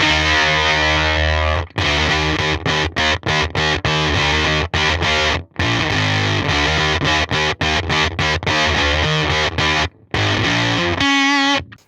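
Coral pink Ibanez AS63 semi-hollow electric guitar played through a distortion pedal, thick saturated chords and riffs strummed in choppy bursts with short gaps, loud and close, no talking.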